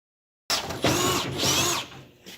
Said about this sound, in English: now we're drilling to 25/64 for that Healy coil